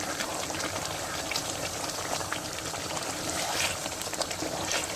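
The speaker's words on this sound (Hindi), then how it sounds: "साथ साथ अब हमने चम्मच से थोड़ा ज़ोर से हिलाते जाना है।" Saag (spinach greens) bubbling and simmering in a pot as it is stirred firmly with a spoon, a steady dense wet bubbling texture throughout with no talking.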